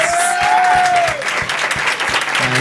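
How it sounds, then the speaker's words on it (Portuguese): Audience applause breaks out in a bar during a live storytelling show, a dense steady clapping with a high whistle or cheer over it at the start, loud and close throughout. "Palmas!"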